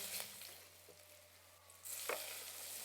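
Mustard seeds, cumin and asafoetida fry in hot oil for dosa masala, a soft steady sizzle with a few small pops that turns louder and brighter partway through. No speech is heard.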